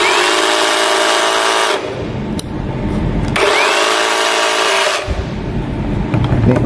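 A DongCheng DCMQ85 cordless jigsaw cuts at speed 6 with its pendulum action engaged, giving loud, close, whining buzz in two sustained bursts separated by brief pauses in the cutting, with no talking.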